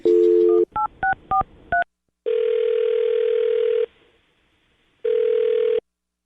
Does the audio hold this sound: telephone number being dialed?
yes